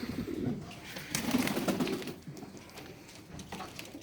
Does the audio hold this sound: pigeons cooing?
yes